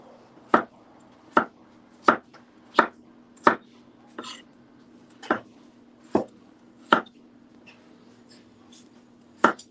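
Peeled potatoes being sliced at an angle with a knife on a board, about a dozen crisp, evenly spaced chops close up in a quiet room.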